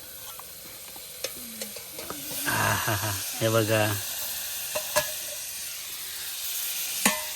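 Chicken sizzles and crackles on a hot tawa as a utensil scrapes and clicks against it, with a brief spoken remark in the middle.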